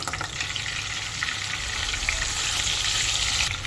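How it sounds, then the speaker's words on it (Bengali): Chopped onion fries in a hot pan with a loud, steady, dense sizzle right up close, swelling slightly toward the end with no voices. "আমার রান্না বান্না দিয়ে দিচ্ছি সামান্য পেঁয়াজ কুচি"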